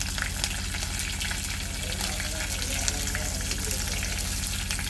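Slit green chilies fry in hot oil in a pan while making coconut rice, a steady close crackling sizzle with faint stirring, continuous and even with no talk.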